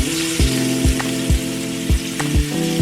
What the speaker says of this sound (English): saute these onions up in this oil